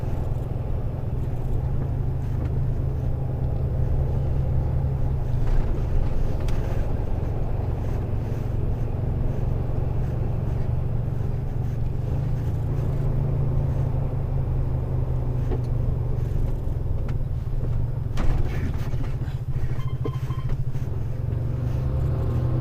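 A car drives along a road with old humps in Coventry, its steady engine and road rumble constant throughout, and a short broadband thump near the end as it brakes hard over a hump.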